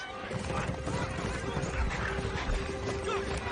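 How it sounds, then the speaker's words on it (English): A virtual horse race plays a galloping horse as rapid hoofbeat clip-clops and whinnying under an excited commentator's voice, with a steady tone humming behind the action. "Your horse is challenging for the lead."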